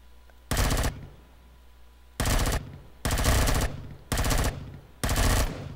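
Automatic weapon fire aimed at enemy towers in the Empyrion space survival game comes as five loud, close bursts, each lasting about half a second, with short quiet gaps between them.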